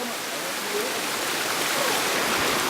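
A waterfall near Marrakesh roars as a steady, broad rush of falling water, even and continuous, slightly building, with a voice faintly present under it.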